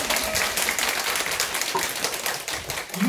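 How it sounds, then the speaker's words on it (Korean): A church congregation at a closing gathering of a Bible-reading course claps in thanks, producing sustained, close, even applause that fades slightly near the end. "우리 특별히 좀 감사의 박수를 한번 치고"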